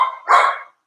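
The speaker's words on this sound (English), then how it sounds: "People come in and go, the dogs bark." A single dog barks twice in a quick double bark, loud and close in a home kitchen, then stops into silence.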